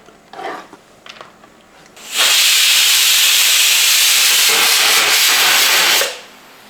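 A pressure cooker with a potato masala curry lets off a loud, steady steam whistle that starts abruptly, holds for about four seconds and then cuts off, following a few soft kitchen clatters.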